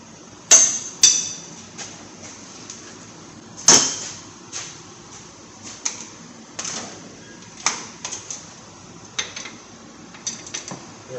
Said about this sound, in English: We'll go ahead and break these loose with the big ratchet because they're pretty tight.